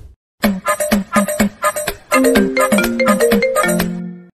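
A mobile phone rings loudly and close, its melodic ringtone repeating in quick bright bursts of notes that rise and fall for several seconds, with no talk.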